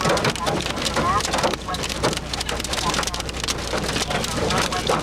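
Torrential rain and large hail pound a storm-chasing vehicle near a Missouri tornado, a dense, steady roar of drumming drops with occasional voices mixed in.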